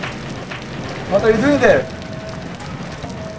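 Steady rain falls on the ground on a rainy day, a constant soft patter of raindrops running throughout while a person briefly speaks over it.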